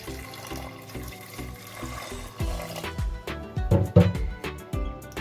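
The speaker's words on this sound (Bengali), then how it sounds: "এবার দিয়ে দিব পরিমাণ মতো জল" Water poured from a vessel into a pan of spiced vegetarian ghugni with turmeric, splashing steadily and close by, with a louder burst of bubbling and sloshing in the later seconds.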